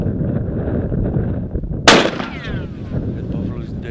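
A single loud hunting rifle shot at a buffalo on a South African safari cracks out close by, then rings and echoes away against a rumbling outdoor background.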